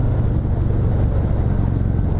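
A 2019 Harley-Davidson Fat Boy FLFBS with its Milwaukee-Eight 114 engine being ridden, giving a loud, steady low rumble with continuous lumpy pulsing and wind roar throughout.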